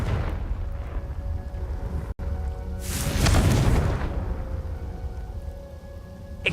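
A Confringo fire spell detonates in Hogwarts Legacy, a deep booming blast that swells and rumbles for about a second amid steady ambient game sound, with no voices.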